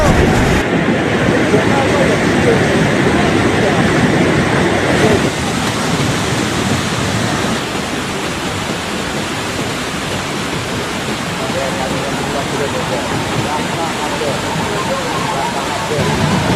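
A flash flood torrent roars through Guci in Tegal, a dense, loud, continuous rush of muddy water churning debris that fills the whole stretch without pause.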